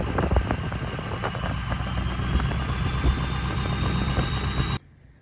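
A cheap diesel truck engine idles just after a fuel pump install, a close, steady mid-pitched rumble with light clatter that runs evenly and then cuts off abruptly near the end.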